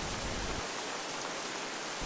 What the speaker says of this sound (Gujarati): અનેક ગ્રામીણ પંથકમાં વહેલી સવારથી જ વરસાદ.